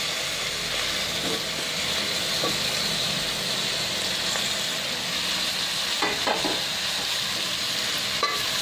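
Carrot, bottle gourd and tomato pieces are stirred in a hot pan for sambar: a steady frying hiss with occasional soft scrapes and knocks from the spoon.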